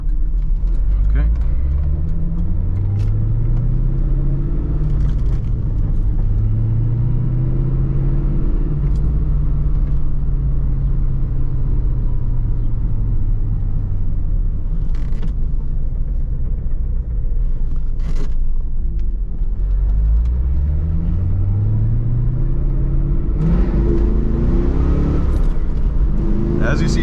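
A C4 Corvette engine drones loudly from inside the cabin, its pitch rising and falling repeatedly as it accelerates and shifts through gears.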